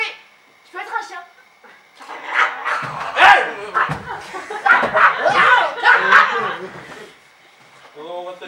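A performer in an improv comedy show imitates a dog with voiced barks, yaps and panting, in several loud bursts close up, with laughter around the imitation.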